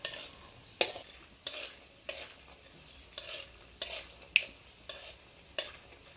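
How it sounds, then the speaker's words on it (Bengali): Nuts fry until brown in hot oil for chirer polao, with a soft steady sizzle broken by regular spatula scrapes against the pan about every half second. "একটু ব্রাউন করে ভেজে নেব বাদামগুলো"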